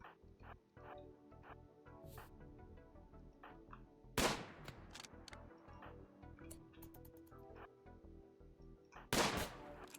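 Gunfire in the colony-defense game RimWorld during a sea ice challenge, with two sharp, loud shots standing out at separate moments over a busy layer of game music and effects.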